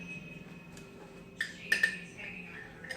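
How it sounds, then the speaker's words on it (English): A spoon scoops sugar into a bowl while making homemade banana pudding: a few faint, quick clinks of metal against the dish in the middle of an otherwise quiet moment. "Get a spoon. Alright, and then just put some scoops of it in there."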